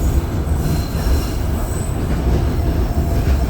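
A train runs along the rails toward Morretes in Paraná, with a loud, steady rumble of wheels on track and a high squeal of wheels on the rails throughout.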